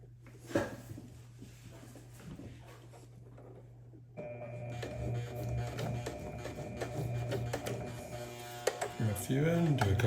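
A sewing machine starts up partway through and runs steadily, stitching taped-together quilt pieces. A constant low hum and some rattling come before it, then a loud continuous mechanical whir with a few clunks near the end.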